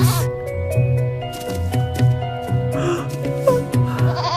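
Repeated sheep bleats over soft background music, a few short calls spread across the clip at moderate loudness.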